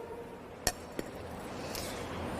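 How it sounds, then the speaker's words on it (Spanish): Two sharp glassy clinks ring out close by, one followed a moment later by a second, softer one, as a watch glass is set over a glass beaker holding ice, with a quiet room hum around them. "Tape con un vidrio reloj."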